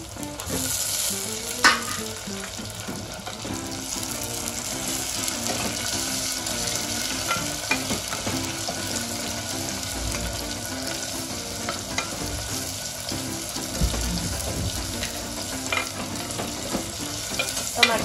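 Onions frying for a matka chicken curry, a steady close sizzle with faint scraping stirs, and music-like tonal bands running underneath throughout.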